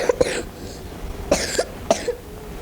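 Several short, dry coughs close by: a quick pair at the start, then two more spaced apart after a brief pause.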